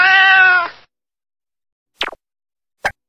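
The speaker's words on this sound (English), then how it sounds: "El gato." A cat meows, one long, clear, near call at the start, followed by silence and then two short plopping pops.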